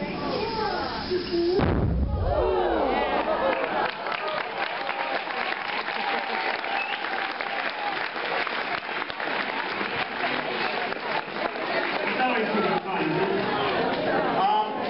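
A hydrogen-filled black balloon ignited at a kids' physics demonstration, giving a single sharp whoomp of burning gas, followed by a long stretch of audience applause and cheering.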